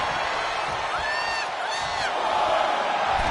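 A roaring arena crowd cheers in the WWE 2K25 wrestling video game, a loud, steady wash of noise with whoops and whistles rising over it, while a commentator talks over part of it.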